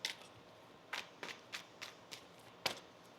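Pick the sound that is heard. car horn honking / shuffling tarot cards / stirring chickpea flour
shuffling tarot cards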